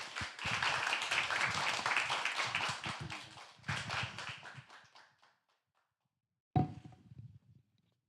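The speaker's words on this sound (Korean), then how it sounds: "큰 박수로 우리 환영하도록 하겠습니다." A church congregation claps to welcome a pastor to the front. Brisk clapping runs for about five seconds and then dies away. After a pause of silence, a short sharp burst of sound follows and fades quickly.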